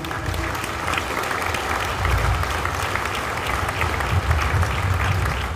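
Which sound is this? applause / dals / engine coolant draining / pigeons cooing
applause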